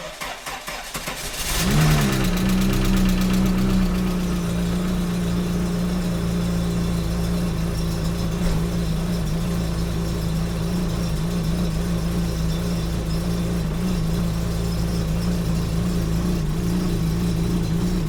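A VW Corrado G60 engine cranks briefly, catches and settles into a steady, loud idle that runs on without a break and with no one talking.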